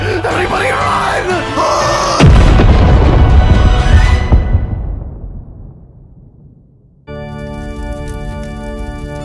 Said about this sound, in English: One heck of an explosion.